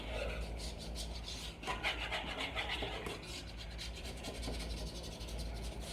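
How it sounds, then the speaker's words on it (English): A utensil scrapes and rubs around the edges of a pot of chocolate cake mixture, soft continuous scratching close up with some irregular strokes. "Scrape all the edges."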